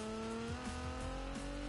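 A racing car engine in the video game Need for Speed drones steadily at a sustained high pitch with slight pitch shifts, a constant mechanical hum with no speech.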